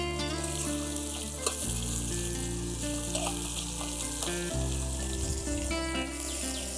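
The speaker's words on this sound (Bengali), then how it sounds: "মাছগুলোকে আমি একটু কড়া করে ভেজে নেব।" Koi fish frying in hot oil, a steady close sizzle and crackle that shifts in intensity as pieces are moved, with occasional light clinks, no speech.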